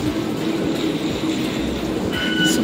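Taipei metro red line train at Taipei 101 station, loud steady rumble of a train with rail hum and faint wheel squeal, heard close at track level.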